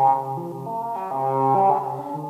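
Serge modular synth sequence run through the low-pass output of a variable QVCF filter, a quick series of stepped mellow tones changing pitch every fraction of a second, close and clean with no voices.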